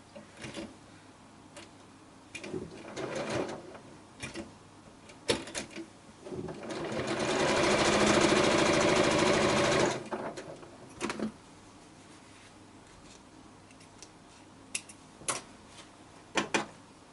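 A sewing machine stitches quilt block pieces in one continuous whirring run of about four seconds, with scattered clicks and handling knocks before and after.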